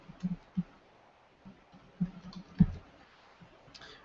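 Typing on a computer keyboard: a few quiet, scattered keystroke clicks spaced irregularly, close but soft in a near-silent room.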